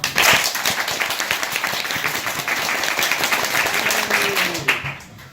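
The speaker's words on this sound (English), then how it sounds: "We're going to clap in unison for a lot amount of time until I do this." An improv show audience claps in unison, a fast, evenly spaced train of sharp crowd claps that holds steady, then thins and fades out near the end.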